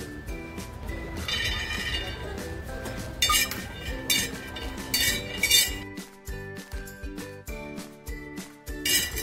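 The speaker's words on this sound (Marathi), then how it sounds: "आता आहे ना शेंगदाणे भाजून घेते" Peanuts dry-roasting in a pan for a cluster bean thecha, heard as continuous close rattling and clinking of nuts and a spoon against metal, with louder scraping bursts partway through.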